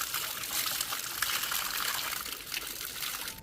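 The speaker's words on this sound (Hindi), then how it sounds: "यहाँ पे ठंडा ठंडा पानी आता है" Steady, continuous rush of cold water flowing from a spring, a bright trickling splash that stays even throughout with no voices.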